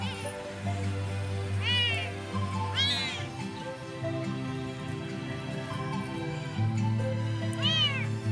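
Abandoned, hungry kittens, one of four, give several thin, high-pitched meows spaced apart over a steady low hum.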